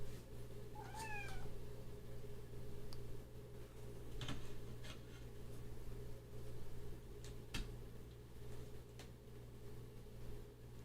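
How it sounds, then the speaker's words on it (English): A house cat meows a few times in an indoor room, the calls fairly close but soft over a steady hum of a fan or appliance. "That's the kitty."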